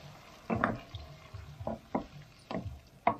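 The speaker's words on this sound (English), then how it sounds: "give it a stir" Spice-coated chicken curry stirred in a pan with added water, a few soft wet sloshing scrapes spaced irregularly, fairly quiet and close.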